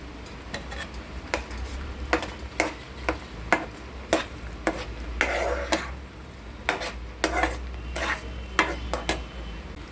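A spoon stirs semolina sheera with banana and dry fruits in a pan, sharp repeated scraping knocks against the metal at an irregular rhythm over a soft sizzle, close and clear, with no voices.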